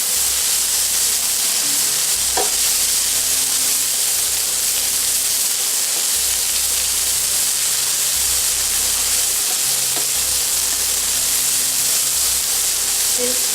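Spring roll filling of pork bacon, chives and carrots stir-frying in a pan, a steady loud hiss and sizzle running throughout with occasional faint clinks.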